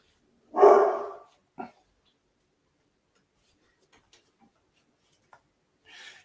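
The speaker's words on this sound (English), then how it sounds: "She doesn't bark, but you'll hear Max once in a while bark." A yellow Labrador gives one loud, close bark, followed by a shorter second yelp, then faint scattered ticks and clicks in an otherwise quiet room.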